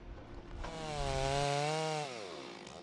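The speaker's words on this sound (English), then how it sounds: "the chainsaw." A chainsaw used in Northwest logging revs up to a loud, steady whine and then winds back down, heard close and alone for a few seconds.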